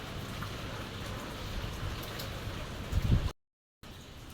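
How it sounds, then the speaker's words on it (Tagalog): Heavy rain pours steadily on a dark Christmas morning, a dense continuous hiss that stays loud and even, with a brief louder burst near the end before a short gap. "Sobrang lakas po ng ulan."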